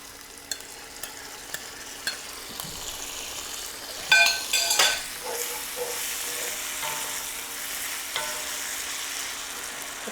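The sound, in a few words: tomatillos sautéing with garlic in pan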